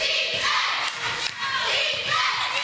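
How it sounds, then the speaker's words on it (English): Home crowd at an Iona women's basketball game against Wagner, loud massed voices chanting and shouting across the arena, rising and falling in a steady rhythmic swell. "The Iona crowd chanting defense"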